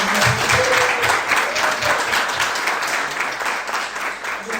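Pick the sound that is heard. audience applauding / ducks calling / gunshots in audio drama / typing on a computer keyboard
audience applauding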